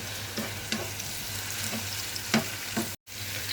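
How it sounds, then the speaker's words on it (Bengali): Onions fry in oil in a pan for beef kala bhuna, a quiet steady sizzle with periodic stirring scrapes and one brief cut to silence. "এবার পেঁয়াজগুলোকে একটু ভাজা ভাজা করে নিব"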